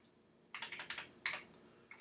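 Typing on a computer keyboard: a quick, quiet run of clacking keystrokes close by, a pause, then another short burst of keys in an otherwise silent room.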